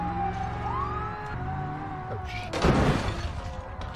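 Police car siren in the BeamNG driving game wails and sweeps over engine rumble, then a loud crash with shattering debris bursts in near the end.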